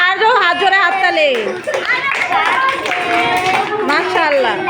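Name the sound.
classroom children clapping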